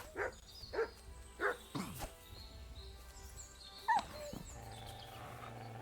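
Mutt, a dog in Kingdom Come Deliverance II, lets out several short, high, plaintive yelps and whimpers, spaced over the first few seconds with one more a bit later, close and moderately loud above a low game background.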